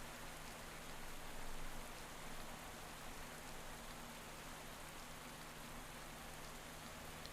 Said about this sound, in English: Sounds like it's raining now.